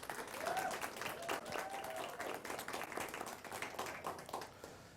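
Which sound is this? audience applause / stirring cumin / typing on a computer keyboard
audience applause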